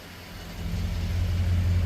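A Knight Rider KITT replica car's engine hums and builds steadily as it drives off, a low mid-pitched drone rising in loudness over a couple of seconds, with no talk.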